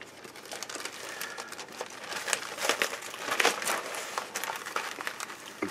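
A plastic biohazard waste bag crinkles and crackles in irregular bursts, close and fairly quiet, with sharper rustles toward the middle.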